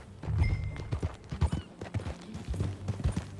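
Horse hooves clip-clop in an uneven galloping rhythm across open ground in the video game Red Dead Redemption 2, moderately close, with a few faint snorts and no talk.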